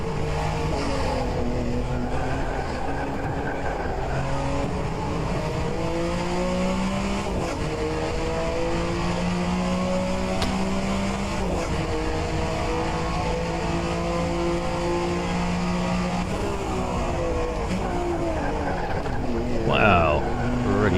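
A Group C Porsche race car lapping Sebring in a racing game, its engine droning steadily and rising and falling through gear changes for the whole stretch, with faint tire noise near the end.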